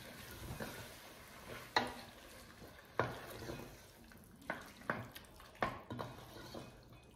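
Tomato sauce simmering in a pan with a soft sizzle, while a spoon stirs and scrapes in several distinct sharp strokes, close and fairly quiet.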